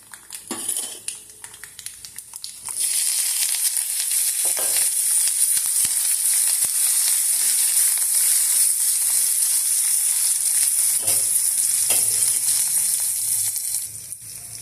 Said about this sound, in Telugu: ఉల్లిపాయ తాలింపు వేగింది